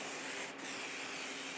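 Spray paint hissing from a can onto an Aquaman statue, a steady close airy spray with a brief pause partway through, continuous and fairly quiet.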